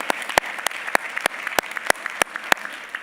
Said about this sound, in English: Quick round of applause for Mike.